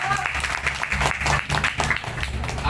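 A crowd claps steadily in a dense, continuous patter at a Halal bi Halal gathering in Padang, with a voice speaking Indonesian over the applause.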